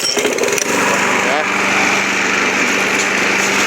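A small ranch machine's petrol engine starts with a sputter, then runs at a steady, buzzing high-pitched idle and rev, close by and alone.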